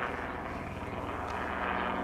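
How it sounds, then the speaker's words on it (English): A fixed-wing airplane passing overhead gives a steady, broad engine drone that holds at even loudness for about two seconds, with no voices over it. "Airplane."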